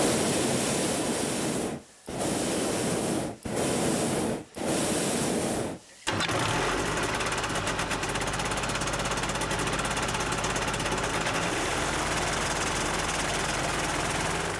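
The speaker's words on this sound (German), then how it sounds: "Die beiden Brenner bringen eine enorme Leistung." The twin burners of a hot-air airship fire in loud, roaring blasts, broken by several short pauses, then run as one unbroken, powerful roar close by.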